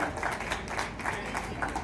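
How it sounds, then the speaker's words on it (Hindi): An audience at a performance of the play Dharti Aaba claps for its director, Gyaneshwar Mishra, a brief, dense burst of applause from a crowd, moderately loud and continuous. "जोरदार तालियां बजा दें।"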